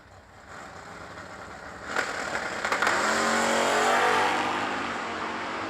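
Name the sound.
drag racing cars launching off the starting line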